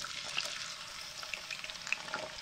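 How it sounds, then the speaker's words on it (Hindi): Potatoes deep-fry in hot oil with a soft, continuous bubbling hiss, dotted with faint scattered pops and crackles, heard fairly quietly with no talking. "लीजिए जी, ऑयल गर्म हो चुका है, अब हम इसमें डालेंगे आलू"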